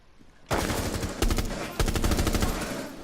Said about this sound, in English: There's another guy firing at me as well